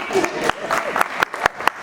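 Audience applause for a panelist at a photography panel event, with scattered sharp claps and cheering over a voice speaking up front.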